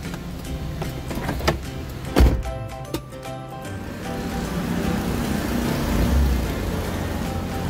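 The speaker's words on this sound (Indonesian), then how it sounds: "otomatis power window bekerja" Electric power window motors running in a car with the ignition on, several strained whirring runs from the left and right windows over steady engine idle, with a couple of clunks as the glass stops.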